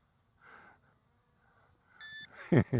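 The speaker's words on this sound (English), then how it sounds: "Oh no, that's the headless mode beep. Headless mode warning beep." A short electronic beep from a Bezgar BD102 FPV drone's headless mode warning, followed by a pair of louder, sharper beeps, with faint background noise before.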